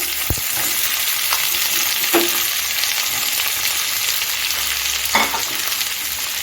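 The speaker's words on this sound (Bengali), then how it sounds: "পেঁয়াজটা আমি গোল্ডেন করে ভেজে নেব" Onions sizzle steadily in hot ghee over medium heat with a constant crackling hiss, broken by a few clinks of a spoon stirring the pan.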